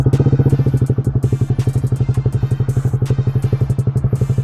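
A 2025 Honda Grom SP motorcycle with a Stage 1 upgrade idles close up, its warm engine beating in a fast, even, loping thump with mechanical clatter, steady throughout with no talk.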